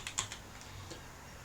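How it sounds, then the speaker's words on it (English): A password is typed on a computer keyboard. A few quick, faint key clicks come close together at the start, then the keys go quiet under low room noise. "Note, I'm typing my password, but there's no indication that I've typed it at the cursor."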